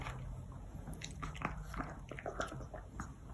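A pet chews and eats a treat up close, quiet wet biting and crunching clicks in quick irregular bursts over a faint background hum.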